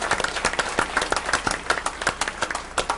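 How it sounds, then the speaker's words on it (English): Dense applause from a crowd at a school board meeting, many hands clapping steadily and loudly throughout. "they deserve an extra round of applause for all of their hard work"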